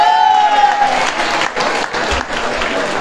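An audience at an anniversary celebration in a marina port applauds warmly, a full, dense burst of clapping with crowd noise, swelling and dipping slightly while continuing throughout.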